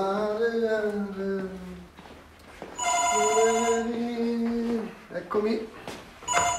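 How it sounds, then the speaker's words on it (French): A telephone rings in a room, its bright, repeated trilling bell in two bursts between stretches of talk and voices, then a person answers. "Sì? Allo, Nani?"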